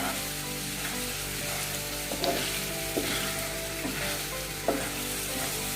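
Turmeric and whole spices stirred in oil in a pan for Punjabi dum aloo: a steady low sizzle with a few scraping, knocking strokes of the spoon. No voices.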